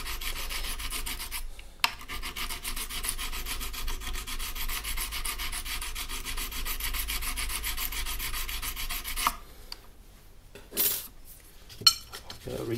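Gentle rubbing over a guitar neck on a Hutchins AL-1 during cleanup, a long steady close-up scrubbing rasp that stops, followed by a few shorter rubs and small knocks.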